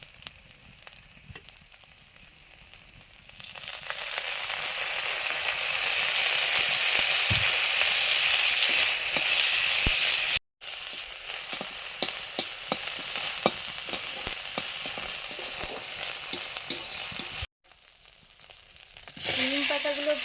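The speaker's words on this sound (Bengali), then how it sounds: "এবারে তেল দিয়ে নিম পাতাগুলো ভেজে নেব" Neem leaves frying in oil make a loud, steady crackling sizzle close up after a quieter start, with a couple of brief dropouts and sharp pops scattered throughout.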